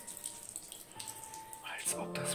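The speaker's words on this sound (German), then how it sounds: "Als ob das Wasser fließt hier." Water running from a tap in an abandoned tennis club building, a faint steady splashing hiss with someone speaking quietly over it.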